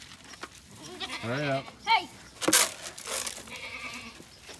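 Goats on a farm bleat several times at close range, rising and wavering cries, mixed with a person shouting briefly and scuffling movement.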